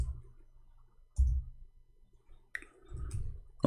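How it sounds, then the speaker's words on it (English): Computer keyboard keys clicking in short clustered bursts separated by quiet gaps, close and fairly crisp, with no talking. "Okay, finally our keyboard working fine."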